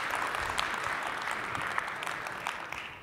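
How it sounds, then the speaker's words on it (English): An audience claps at a tech conference talk on AI and Kubernetes, a moderate, even patter of many hands heard from a distance, sustained for about three seconds. "you can clap. Yes, you can clap."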